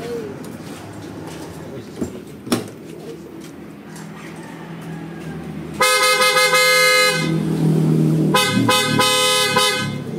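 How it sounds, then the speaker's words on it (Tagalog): A loud PIAA dual car horn fitted to a Toyota Wigo blasts twice, a long harmonic honk followed by a shorter one, after quieter background noise. "susubukan natin yung lakas ng isang PIAA dual horn"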